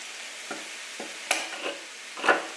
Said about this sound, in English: We're gonna add to this our diced tomatoes and